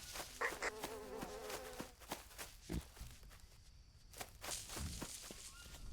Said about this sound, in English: Wait, the buzzing. Is there a dead animal carcass nearby?